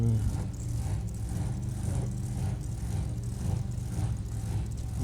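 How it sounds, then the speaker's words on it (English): Loud drag racing cars idling and revving at the starting line during a sportsman series event in Portland, a steady heavy engine rumble with slow pulsing surges, no talk. "Couple of very loud cars here."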